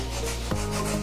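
An emery sheet is rubbed over the copper pipes of a Daikin air conditioner's indoor cooling coil to roughen them before welding, giving a loud continuous scraping rasp close up with one brief knock near the middle.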